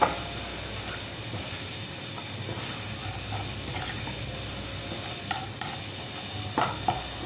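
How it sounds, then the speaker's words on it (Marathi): Mustard seeds crackle in hot oil in a home kitchen pan for a drumstick and besan dish, a soft steady sizzle dotted with sharp sporadic pops, faint and without talk. "तेल तापेल, मोहरी फुटेल."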